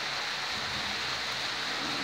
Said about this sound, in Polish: Wybrałem się na wycieczkę, a tu trochę pada.